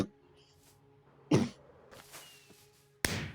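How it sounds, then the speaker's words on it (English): A person gives two sharp, close coughs a couple of seconds apart, with faint softer sounds between them in an otherwise quiet room. "I just covered my mouth while I was coughing."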